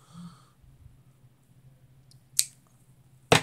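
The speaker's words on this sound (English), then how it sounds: "We're simply just going to cut it in half" Scissors cut a small strip of blue cardstock in half, giving two sharp, close snips near the end after a quiet stretch with faint handling noise.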